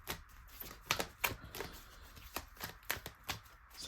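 Tarot cards being shuffled and drawn, a quick irregular series of close, crisp card slaps and riffles, fairly quiet with no talking.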